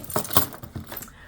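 Keys jangling as they are slipped into a pocket of a crossbody purse, a few bright metallic rattles close by, brief and alone.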